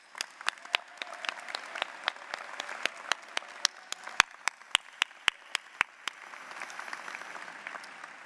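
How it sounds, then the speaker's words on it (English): Audience at a Binghamton University School of Management commencement applauds the faculty with sharp, scattered individual claps over a soft crowd bed, thinning out toward the end. "Please join me as we applaud their support of and dedication to the success of our students."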